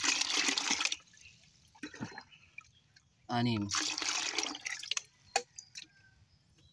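Water poured from a dipper onto squash plants, several separate splashing pours with gaps between them, heard close up alongside someone speaking.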